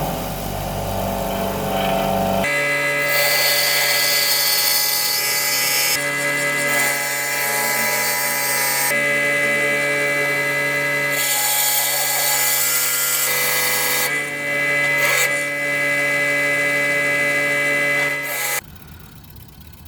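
A power tool cutting notches into a custom spark plug socket, a loud high-pitched whining grind in several sustained passes broken by short pauses, close and alone.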